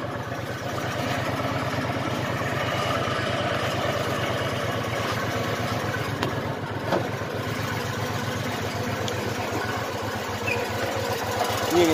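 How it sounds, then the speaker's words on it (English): Car engine idling low after an idle adjustment that lowered a too-high idle, with a steady fast mechanical putter and ticking, loud and close, running continuously throughout. "You can hear how low it idles."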